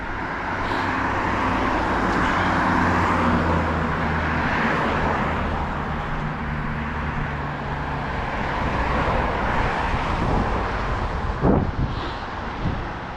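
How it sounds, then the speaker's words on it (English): An old late-80s or early-90s pickup truck driving past on a road during a walk on Independence Day, a loud, steady engine and tire roar that swells and then fades, with wind buffeting the microphone. "That's a really old pickup truck."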